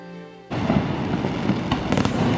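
Fireworks burst across the water at Niagara Falls: after a brief quiet hum, a loud boom opens a sustained rumbling roar with crackling pops and a sharp later burst, heard from a distance outdoors.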